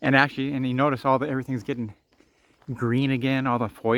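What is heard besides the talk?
None of the usual background noises is heard.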